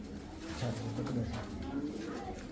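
A checker racer pigeon gives soft, low cooing close by, with people talking over it.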